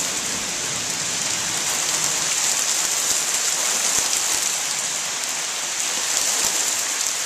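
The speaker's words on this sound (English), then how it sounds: "every time there's some lightning and thunder, we get a burst of rain." Heavy summer thunderstorm rain pours down steadily in a dense, even hiss of drops hitting surfaces, with no voices.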